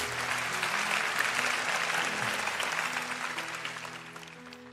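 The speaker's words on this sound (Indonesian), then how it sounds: "beri tepuk tangan bagi Allah" Loud applause from a teen congregation during a church service, dense clapping that fades slightly toward the end, with some voices and cheers underneath.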